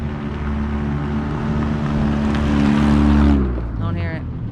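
A lifted Honda Civic wagon idles with a low, droning exhaust rumble and a rattling undertone, swelling slightly before dropping off near the end.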